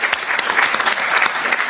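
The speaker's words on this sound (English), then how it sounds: "So a round of applause for them." Audience at a university debate between Imperial College and LSE claps in a brief, dense burst of applause, steady and fairly close throughout.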